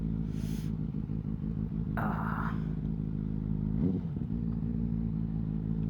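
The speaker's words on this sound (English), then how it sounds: "The sound is the single most amazing thing about this bike." A 2015 Benelli BN600i/TNT600 motorcycle engine idles with a low, throbbing exhaust rumble, punctuated by a few short hissing bursts and a brief blip.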